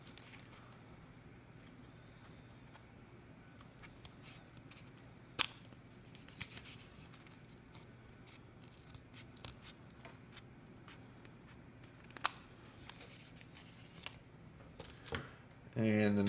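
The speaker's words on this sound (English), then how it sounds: "Just do that with your scissors." Quiet, intermittent snips and crunches of scissors cutting through stiff cardboard, close by, with occasional clicks and a soft background hum.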